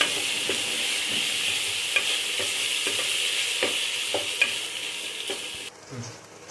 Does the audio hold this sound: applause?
no